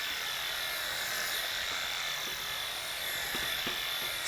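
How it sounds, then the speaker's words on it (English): A Wahl Bravura lithium-ion cordless clipper trims the thick coat of an Old English Sheepdog, giving a steady, quiet, close-up whir with a soft hiss throughout and no talking. "can see how easily this clipper just glides through this dog's coat."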